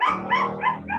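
A dog barks four times in quick succession, close and fairly loud, each bark sharp with a slightly whiny edge.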